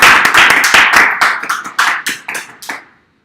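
Conference audience at an undergraduate research talk claps to welcome the first speaker: a loud, dense round of applause that thins into scattered individual claps and fades out by the end.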